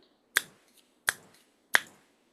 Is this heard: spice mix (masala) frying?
no